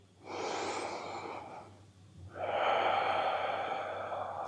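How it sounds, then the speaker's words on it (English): Slow, steady breathing during hatha yoga practice, a long airy breath followed after a short pause by another sustained breath, close and soft with no talk over it. "Smooth breaths."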